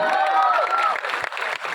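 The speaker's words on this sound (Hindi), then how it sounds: "जोरदार तालियां हो जाए। Come on." Fans at a Mumbai film trailer launch clap and cheer loudly, a crowd roar with whistles and shouts that thins into scattered clapping.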